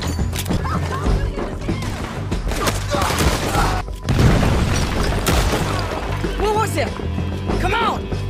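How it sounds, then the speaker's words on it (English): An explosion blows apart a jail in a video game, a heavy boom near the midpoint amid ongoing gunfire and crashes, with people talking and shouting over the chaos. "They blew my jail apart."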